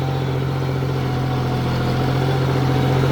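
A tractor engine pulling a 22-inch five-disc plough runs steadily and loudly up close, a constant low droning hum with no pauses and no voices.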